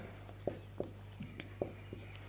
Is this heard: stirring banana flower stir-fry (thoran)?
no